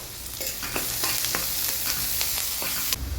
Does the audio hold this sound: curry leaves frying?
yes